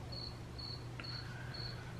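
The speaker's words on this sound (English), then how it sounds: "the cricket noise in the background" Crickets chirp at night in the background, a steady high trill repeating in short even bursts over a faint low hum. The sound is quiet and distant, with no voices.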